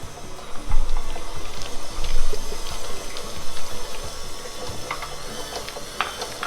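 A stand mixer kneads cheese de sal dough with butter added, giving a steady close mechanical whir with rhythmic knocking and clicking that runs continuously throughout.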